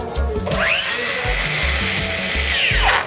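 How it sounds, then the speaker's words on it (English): A Bosch Profactor 18-volt cordless circular saw spins up to a loud, high whine, holds at full speed for about two seconds, then winds down, close by with a faint thumping in the background. "we can just take this 18-volt core battery, run it right on this circ saw"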